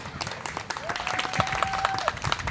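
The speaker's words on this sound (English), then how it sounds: "So another round of applause for Heather if we can." An audience applauds a presenter named Heather with a short burst of clapping, while a voice or tone sounds briefly through it.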